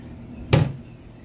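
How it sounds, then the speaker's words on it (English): A wooden cabinet door on a furniture piece being made over gives a single short knock or clunk as it is opened or taken off, in an otherwise quiet room. "the doors are going to come off"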